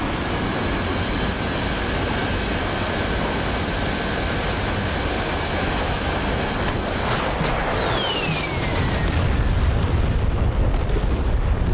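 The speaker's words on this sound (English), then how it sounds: "No, I was hitting targets with rockets" Rocket strikes and explosions during a flight sim combat run in DCS or War Thunder, a continuous loud roar of booms and jet engine noise with a descending whine, no talk.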